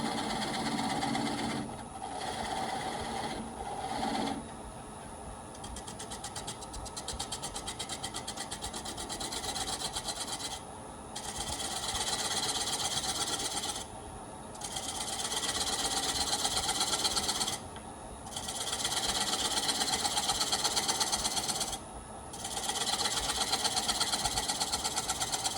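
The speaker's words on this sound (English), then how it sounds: "I'll just peel a little of the extra material away here, riding the bevel." A wood lathe spins a burl bowl as a gouge cuts along the bevel, making a loud continuous rough scraping and shaving noise broken by several brief pauses.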